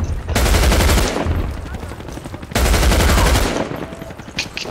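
Loud rapid automatic gunfire in Medal of Honor Warfighter multiplayer, two sustained close bursts of machine-gun fire separated by a short pause, with faint chatter between.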